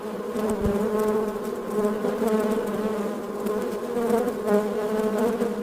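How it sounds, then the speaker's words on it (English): Worker honey bees buzz inside a hive in a dense, steady drone, a close continuous hum with layered tones that swells slightly but never stops, and no voices. "Inside the hive, worker bees process nectar."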